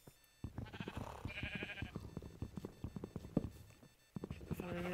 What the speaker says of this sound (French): c'est là que maintenant qu'il y a des moutons